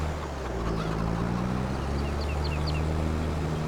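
Chickens in the Farming Simulator 22 game give faint, sporadic clucks and chirps over a steady low engine-like drone of farm machinery.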